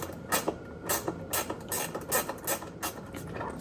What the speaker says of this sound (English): We're gonna use a ratcheting wrench for those.